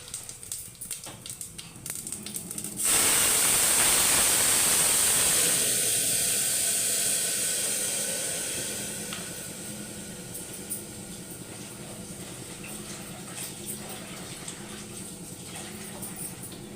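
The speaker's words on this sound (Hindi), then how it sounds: "देसी घी में मैंने जीरा डाल दिया चावल का तड़का लगाने के लिए।" Cumin hits hot desi ghee with a sudden loud sizzle that hisses strongly for several seconds, then gradually settles into a quieter, steady crackle and bubbling close by.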